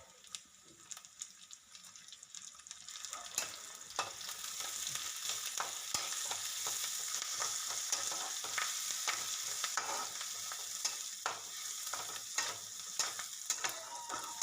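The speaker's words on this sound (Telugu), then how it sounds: "ఉల్లిపాయలు కొంచెం వేగాక పచ్చిమిర్చిని కరివేపాకుని వేసుకొని బాగా కలుపుకోవాలి" Onions, green chillies and curry leaves frying in a pan for a chicken curry, with a steady hiss of sizzling oil and repeated scraping stir strokes throughout, fairly close, no talking.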